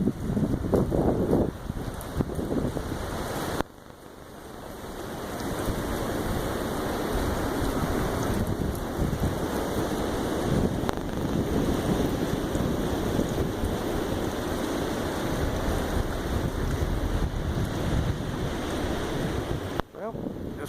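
Strong wind roaring through a camp during a 40+ mph wind storm, a continuous heavy rushing buffet with gusty surges and a brief lull, loud and close against the microphone, no voices.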